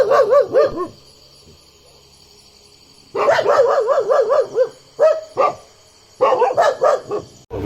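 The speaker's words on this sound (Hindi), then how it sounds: "कुत्ता लगातार भौंक रहा है," Dog barking at night at a resort near Rajaji National Park, rapid repeated barks in bursts with short pauses, loud and close, with no talking.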